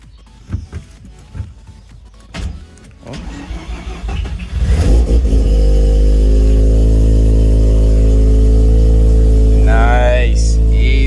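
Mazda RX-7 FD engine on its first drive: clunks and handling noises, then the engine roars up to a loud, steady, close drone with strong harmonics as the car pulls away, a brief higher rev note near the end.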